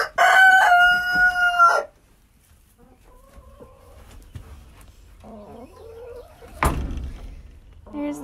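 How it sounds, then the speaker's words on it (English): Light Brahma hens in a muddy backyard coop cluck and call. A loud burst of calls comes first, then softer, scattered clucks and murmurs close by. "Here's the pretty hens. Those are my light Brahmas."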